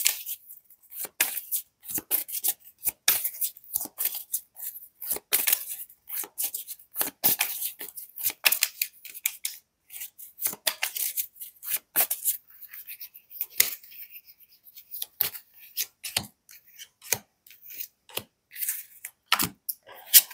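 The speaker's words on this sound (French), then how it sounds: "Donc, je vous prends 3 cartes." Oracle cards are shuffled and drawn in a rapid series of crisp, papery flicks and snaps, irregular and close, continuing for about twenty seconds with no voice over them.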